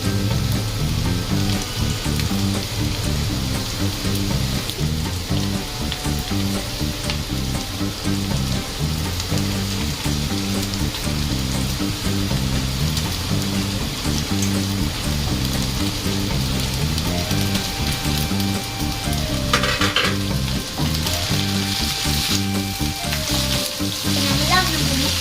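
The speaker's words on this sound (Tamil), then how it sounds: "நம்ம பாயில் பண்ணி வச்சிருக்கிற நூடுல்ஸை நம்ம அதில் போட போறோம்" Boiled noodles stir-frying in a hot pan for a home-style restaurant noodle dish, a steady loud sizzle with rhythmic scraping and tossing throughout, no talking.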